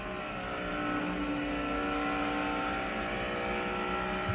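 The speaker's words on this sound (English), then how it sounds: "I want you to listen to his throttle going through the corner." A NASCAR Cup Series race car at Dover is heard through a corner, its engine holding a steady, sustained throttle tone at moderate distance with no break.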